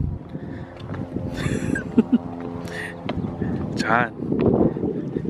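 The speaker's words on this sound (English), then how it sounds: "I'm outside and it's so windy and cold" Strong, cold wind blows outdoors as a steady low rumble buffeting the microphone, running under a person talking throughout.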